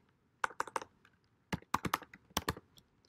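Short bursts of typing on a computer keyboard while a username is entered, two quick clusters of crisp key clicks separated by a brief pause, close and clear with no talking.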